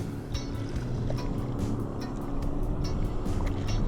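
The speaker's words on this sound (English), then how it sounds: "Right here in the middle of the canals, all this boat traffic." Boat motors rumble low and constant nearby on a canal, heard from a drifting kayak, with faint ticking and splashing on the water around them.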